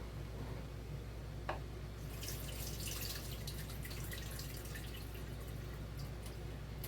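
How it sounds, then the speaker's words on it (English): Spaghetti cooking water draining through a strainer in a kitchen sink, a steady wet rush that swells after a brief drip, continuous and close. "Just let that water all drain out."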